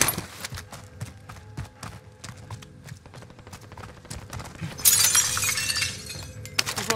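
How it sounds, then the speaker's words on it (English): Glass shatters in a tactical shooter match, a sudden bright burst of breaking shards standing out over sharp clicks, footsteps and scattered gunfire-like taps; no talk during the break. "Who broke glass?"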